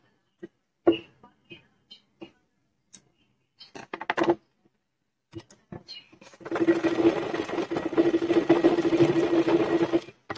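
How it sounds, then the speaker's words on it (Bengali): A sewing machine stitches a double seam on children's underpants, running steadily and loudly for the last four seconds after scattered handling knocks and clicks. "আমরা এখানে একটা ডাবল সেলাই দিয়ে দিব।"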